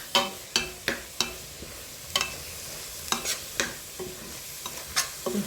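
Egusi fries in oil for soup under a soft sizzle, while a spoon scrapes and taps the pot in quick, regular stirring strokes.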